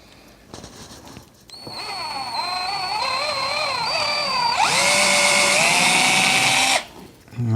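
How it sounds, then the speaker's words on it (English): A power drill boring a screw hole in a wooden gunstock whines steadily for several seconds, its pitch wavering as it bites, then shifts to a harsher, higher grind before stopping abruptly. "we're going to go into that hole and drill out the final bore"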